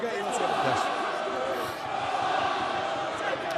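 A capacity crowd at Virgin Media Park in Cork for a Munster v Edinburgh rugby match, a constant distant roar of voices and chanting that holds steady throughout, with commentary over it.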